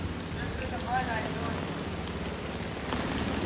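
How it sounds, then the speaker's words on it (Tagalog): Heavy rain pours steadily outdoors on an early morning near a market, a dense even hiss of drops on surfaces that continues without pause throughout. "Naulan na malakas!"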